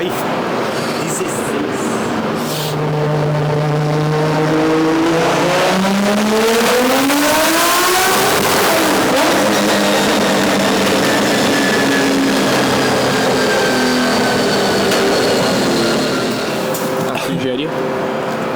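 Subaru BRZ tuned past 1000 hp, strapped down on a dyno, revs up in a long rising engine whine that climbs steeply and then breaks into loud harsh roaring, continuous and close.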